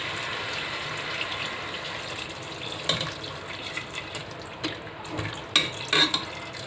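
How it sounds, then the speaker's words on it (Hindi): Water is poured into a pot of chicken with turmeric and spices for shami kabab, a close splashing and sloshing, faint at first and then louder with sharp clinks and spatters near the end. "अब इसमें जाएगा पानी, थोड़ा सा डालूंगी पानी।"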